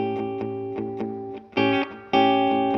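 Les Paul Standard electric guitar playing a repeated tritone interval over a blues one chord, a slightly driven tone with chorus-like shimmer, struck in steady stabs, then two longer sustained chords ringing out near and alone.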